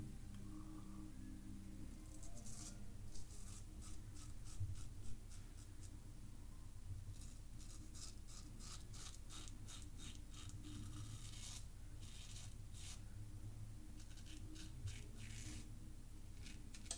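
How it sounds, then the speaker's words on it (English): A Feather Artist Club shavette razor drags across soaped skin in repeated short rasping strokes, close and quiet, in irregular bursts over a low steady background hum. "it feels like I'm actually forcing the razor across my skin"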